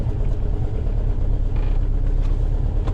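A 1961 VW Beetle rumbles along on a drive, its engine giving a steady low drone with road noise, close and continuous throughout.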